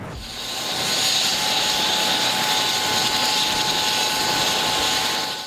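Mi-35 Hind E military helicopter roars steadily and loudly, rising in quickly at the start and holding a dense broadband engine and rotor drone with a whining tonal hum for several seconds, no voices.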